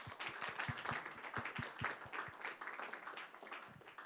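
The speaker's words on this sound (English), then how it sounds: "One more round of applause for Alan." A small conference audience claps at a SPLASH 2023 session, distinct individual claps over a crowd of scattered applause that thins toward the end.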